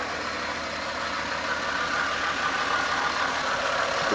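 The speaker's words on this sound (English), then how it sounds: "I've got a little bit of a whine." An overhauled Toyota 1FZ-FE engine idles evenly and close by, with a faint whine from overtight belts over a steady low rumble.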